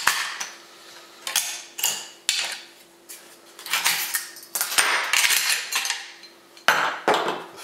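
Metal parts of a Saiga 12 shotgun magazine are handled and taken apart up close, producing a series of sharp clicks, scrapes and clattering knocks at irregular intervals with short pauses between, and no speech.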